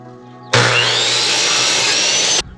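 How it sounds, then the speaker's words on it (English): Jigsaw cutting clamped crown molding, a single loud, steady high-pitched buzzing cut lasting about two seconds, starting and stopping abruptly over a faint background hum. "I clamp the molding so it won't move, and I'm gonna use a jigsaw to make the cut."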